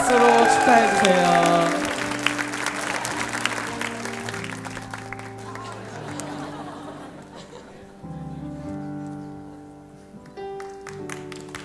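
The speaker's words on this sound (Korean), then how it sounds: "박수로 축하해주세요." A church youth worship congregation applauds in celebration during a pastor's birthday cake moment. Dense clapping is loudest at the start and gradually fades under steady keyboard music.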